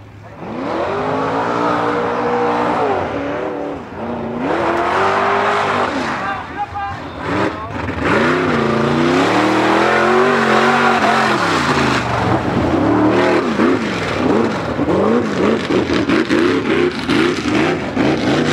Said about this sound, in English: I think that's the first time Sydney's been back out on the track since he's been working on his truck rebuilding. Sounds pretty good.